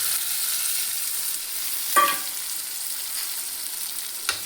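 Cooked mutton frying in a hot pan gives a steady, fairly quiet sizzle, broken by a short scrape or clatter near the middle and another brief knock near the end.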